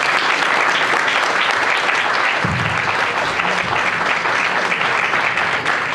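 An audience at a lecture on politics and peace claps in sustained, dense applause that holds at an even level throughout, with a faint murmur of voices underneath.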